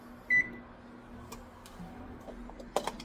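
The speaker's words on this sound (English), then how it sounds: "we should preheat the oven at 350 degrees Fahrenheit" An oven being set to preheat to 350 degrees Fahrenheit gives one short, clear electronic beep near the start, followed by quiet room ambience with a few faint clicks.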